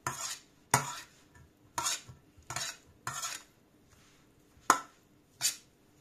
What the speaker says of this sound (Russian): Хорошенько все перемешиваем с зеленью